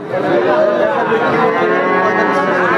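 Cattle low at a busy bull calf market, with a long, loud, close moo over a crowd's steady chatter.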